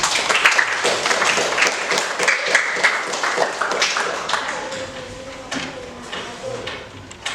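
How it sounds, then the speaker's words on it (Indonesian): Students applauding in a classroom, a burst of close, uneven clapping that thins out and fades, with some scraping and a faint voice toward the end. "Ya, tepuk tangan."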